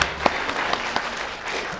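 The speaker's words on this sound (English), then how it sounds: "Why don't you give yourselves a round of applause?" A brief burst of audience applause at a talent show, dense clapping with a few sharper claps standing out, lasting under two seconds.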